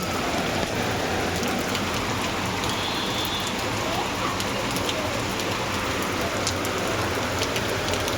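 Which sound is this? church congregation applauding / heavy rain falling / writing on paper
heavy rain falling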